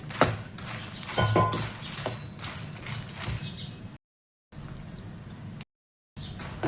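Makhana (fox nuts) stirred into roasted masala in a pan for Konkani-style chivda, giving a steady close scraping and rattling of utensil against pan, with clinking strokes and two brief silent gaps.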